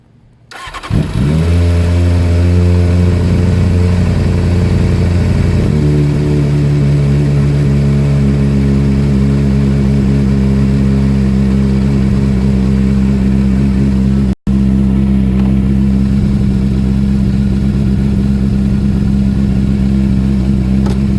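A four-cylinder Triumph TT600 motorcycle engine cranks and fires up, then settles into a loud, steady idle heard up close, with one brief cutout late in the run.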